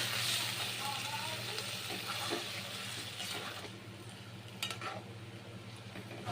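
Water goes into a pan of cooking meat for egg fried rice, with a softening sizzle and stirring scrapes that fade toward the end, a few sharp clinks near the close.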